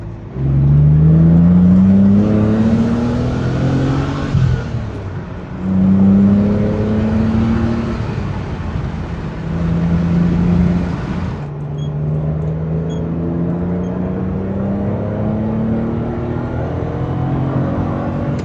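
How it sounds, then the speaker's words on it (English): A V12 BMW E31 850i back on the road after 14 years blips its throttle to rev match while driving, with a loud, close engine note rising in pitch over several gear changes and then settling into a steady cruise. "Can't believe I'm finally rev matching my E31."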